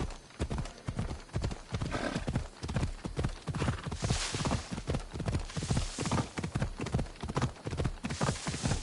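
A horse in Assassin's Creed Odyssey trots along, with steady rhythmic clip-clopping hooves close by and a soft whinny, under faint game ambience.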